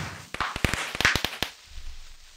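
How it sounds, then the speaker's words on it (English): A creeper from a Minecraft mod bursts into fireworks in the video game, a rapid cluster of about a dozen sharp crackling pops over roughly a second, then fading into quiet. "Why do they all just turn into fireworks?"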